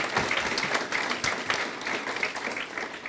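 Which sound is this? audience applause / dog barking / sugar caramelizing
audience applause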